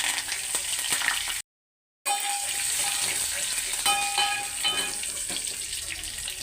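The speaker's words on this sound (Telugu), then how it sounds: "పోపులు ఒకసారి వేసేస్తున్నాను" Garlic, dried red chillies and curry leaves frying as a tempering in two spoons of hot oil, a steady crackling sizzle with small spits and pops, cut by a brief silent gap partway through.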